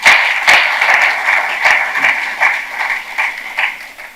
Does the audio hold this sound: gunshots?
no